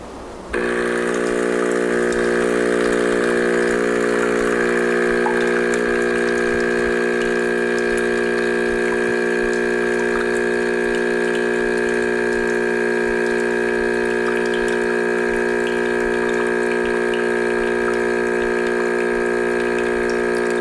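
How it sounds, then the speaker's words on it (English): A De'Longhi EC680M espresso machine pumps hot distilled water through its group head, a loud, steady electric pump hum with a sustained watery rush that runs unbroken for about twenty seconds, close and alone. "I'll just run some of that hot distilled water through there"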